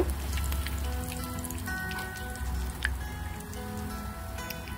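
Kidney bean and tuna kebabs fry in hot oil, giving a dense, steady crackling sizzle with scattered sharp pops, heard up close and alone.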